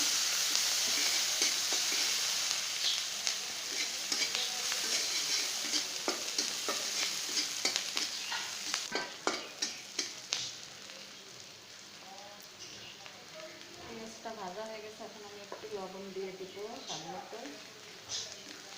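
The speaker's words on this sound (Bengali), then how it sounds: "রসুন কুচি দিয়ে দিব আর দিব পেঁয়াজ কুচি দিয়ে" Chopped garlic and onion frying in a pan for rui fish bhuna, a steady sizzle with bursts of clattering stirs in the middle, while someone talks over the later part.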